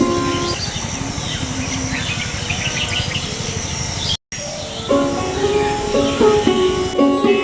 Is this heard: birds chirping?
yes